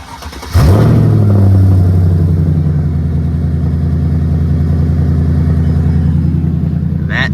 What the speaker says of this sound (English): I don't know if I got a cold start for you guys.